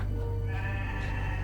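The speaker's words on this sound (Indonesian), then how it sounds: "Kambing." A single brief goat bleat rings out faintly over a steady background hum outdoors.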